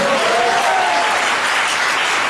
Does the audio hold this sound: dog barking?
no